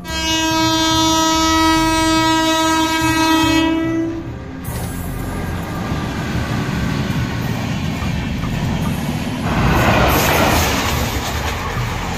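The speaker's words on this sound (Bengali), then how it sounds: "রাতের সময় একের পর এক ট্রেন এই স্টেশন হাই স্পিডে পার হতে থাকে" A train passes a railway station at high speed at night, opening with a long loud horn blast followed by a sustained roar and rattle of wheels on the rails, close and continuous.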